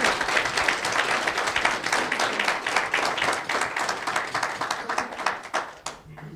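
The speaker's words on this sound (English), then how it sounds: "One more giant round of applause." A roomful of people claps for a guest speaker at an evening professional association meeting, a dense, loud burst of many hands lasting several seconds before thinning out near the end, with faint crowd murmur underneath.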